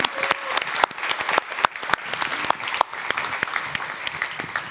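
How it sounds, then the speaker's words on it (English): A conference audience applauds, with dense clapping from many hands, sharp and close, sustained steadily without cheering. "maybe also some applause because it just, motivates us"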